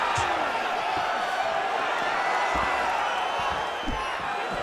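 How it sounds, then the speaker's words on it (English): Arena crowd at a UFC bout between Khamzat Chimaev and Israel Adesanya, a dense steady roar with rising oohs as the fighter strikes, loud and continuous under faint commentary. "You hear this crowd just eating out of his hand, oohing and on every time he advances"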